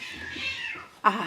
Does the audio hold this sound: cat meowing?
yes